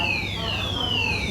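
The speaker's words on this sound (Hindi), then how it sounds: "पूरे सारे अलार्म ऑन हो गए हैं, फायर अलार्म" Fire alarms going off inside a shopping mall: a loud, continuous electronic wail with tones sliding downward, sounding steadily without a break and filling the space.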